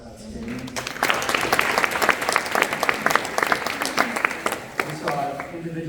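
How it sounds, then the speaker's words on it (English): Listeners at a women's basketball team gathering applaud for several seconds, the claps building quickly and then thinning out, with voices audible alongside. "Give yourselves a round of applause."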